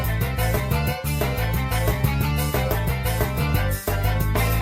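Upbeat racetrack music from Mario Kart 8 Deluxe with a driving beat and layered synth melodies, played loud and continuous throughout.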